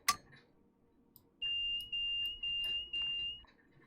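A sharp click, then a high electronic train warning alarm in a video game, sounding in four steady pulses, fairly loud against a quiet hum.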